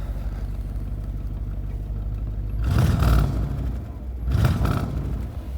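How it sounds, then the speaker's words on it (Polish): A restored Lincoln Continental convertible engine idles with a low steady rumble, broken twice by louder bursts of clattering noise nearby. "Silniczek sobie delikatnie pomrukuje."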